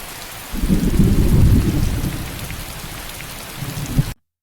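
Rain pours steadily with deep rolling thunder swelling early and rumbling on throughout, a brief louder crack near the end before it cuts off; no voices.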